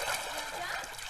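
Someone plunges into water with a broad, rushing splash and continuous sloshing, heard close and loud while voices talk over it.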